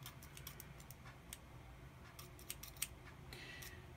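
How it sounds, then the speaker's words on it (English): Quiet, irregular metallic snips and clicks as scissors are opened, closed and handled close by in a calm room. "She obviously likes playing with the scissors."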